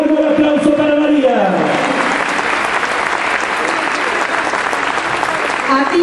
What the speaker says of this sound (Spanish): Fuerte y largo el aplauso para María.